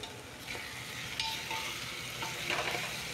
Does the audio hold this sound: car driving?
no